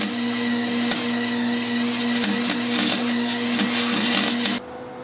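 Steady buzzing crackle of welding beads being laid on a car turbo build, continuous and close for several seconds before cutting off abruptly.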